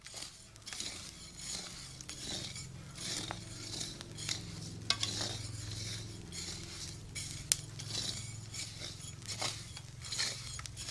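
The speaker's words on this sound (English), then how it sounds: "please roast the coffee like this" Coffee roasting in a pan hisses and rustles quietly while being stirred, with soft scraping and occasional light metallic clinks of a utensil, fairly faint and without talk.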